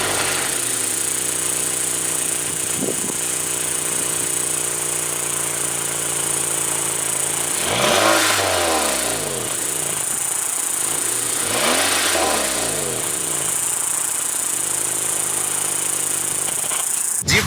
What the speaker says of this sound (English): I'm about to show y'all my stock exhaust